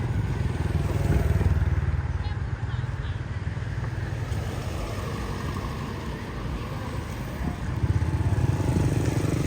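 A motorcycle rides along a cold mountain road, its engine a steady close drone with a slight swell near the end, holding for the whole stretch with no talk over it.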